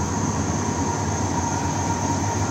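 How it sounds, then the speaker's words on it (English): A train in West Virginia rumbles steadily past close by, a dense continuous roar of wheels and rails with a persistent high whine, no voices. "if you guys can hear the train."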